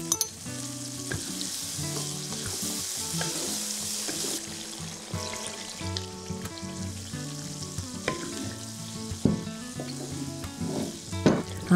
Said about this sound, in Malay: ulang tumis sampai kering sampai garing